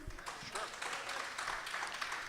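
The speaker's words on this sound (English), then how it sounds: "By show of applause, do you want to hear from him?" An audience at a regional council candidates debate applauding, a soft, fairly distant patter of many hands lasting a couple of seconds.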